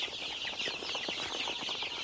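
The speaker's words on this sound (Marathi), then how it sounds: "बघू शकता तुम्ही आपले 21 दिवसाचे पिल्ले बघा मित्रांनो." A brood of 21-day-old desi (gavran) chicks peeping and clucking together in a steady, busy chorus of overlapping high calls, fairly close and continuous, with no talking.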